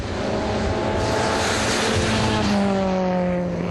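A Honda S600 and a turbo rotary Mercedes drag race, engines roaring steadily at full throttle with rising tones as the cars pull away.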